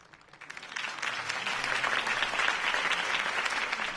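Crowd applause at a political campaign rally in the Batman Telltale video game, swelling up from quiet within the first second into a steady, dense clapping that holds to the end.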